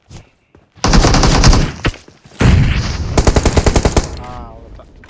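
Rapid bursts of automatic gunfire in the battle royale game BGMI, loud and close, two long volleys with a brief gap between them, then a few sharper single shots trailing off.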